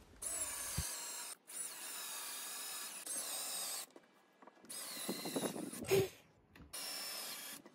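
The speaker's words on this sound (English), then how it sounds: "Here I'm adding 10mm countersink holes on the two frames" Power drill boring 10mm countersink holes into wooden frames for a DIY folding step stool, heard as several sustained, close whirring bursts separated by short pauses.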